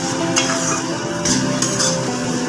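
Paneer chole curry is cooked down in a pan, a steady close sizzle with scraping and the occasional clink of a spoon against the metal as it is stirred.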